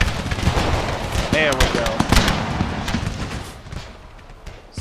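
Musket fire in a Battle of the Alamo video game, scattered crackling shots with a rumbling battle din rather than a full volley, while a voice talks over it.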